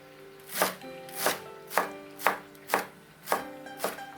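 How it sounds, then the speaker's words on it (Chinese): A knife chops through fresh spring chives on a cutting board in seven evenly spaced, crisp strokes, close and clear, with no voices. "韭菜根部去掉2厘米以后再切碎"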